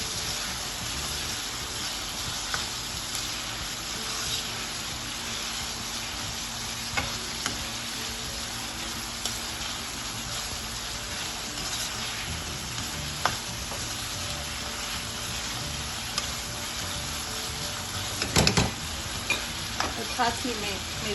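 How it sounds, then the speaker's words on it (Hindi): Mushrooms and chicken frying in a pan for Chinese fried rice, with a steady hiss of sizzling oil and occasional faint stirring scrapes and clicks, no talking. "तो अब मैं इसमें डालने लगी हूँ मशरूम। इसको मैं काफ़ी फ्राई करूँगी"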